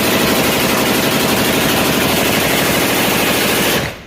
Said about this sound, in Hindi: तभी अचानक अंदर से गोलियां चलने की आवाज़ आई।